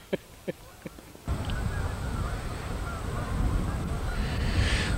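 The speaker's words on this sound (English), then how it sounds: "these Canadian geese come down there and just chatter at each other" Canada geese at a lake chatter and honk in a flock, a few distinct calls at first, then a dense continuous wash of calls and wind noise that grows slightly louder.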